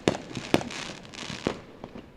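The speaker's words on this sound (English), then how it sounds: "if you're hearing the loud pops, we got fireworks" Loud sharp fireworks pops outside, three distinct bangs spaced irregularly with faint crackle between, fairly close and alone with no talk.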